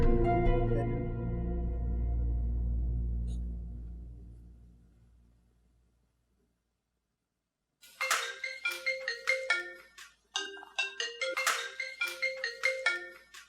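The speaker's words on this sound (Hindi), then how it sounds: "देखना किसका फोन है?" A phone ringtone rings indoors in short melodic bursts, repeated in two groups after a lull, fairly faint and with no voices over it.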